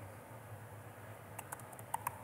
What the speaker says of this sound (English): this is what I was talking about with my typing